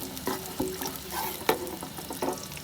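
Onions and whole garam masala frying in a pot while a spoon stirs them, with soft sizzling and several distinct scraping strokes at irregular intervals, close and alone without speech.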